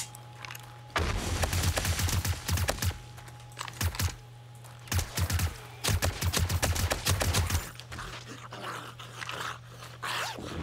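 Automated turret fire in 7 Days to Die, rapid bursts of sharp clattering shots in several clusters with short gaps between, close and loud over a low steady hum.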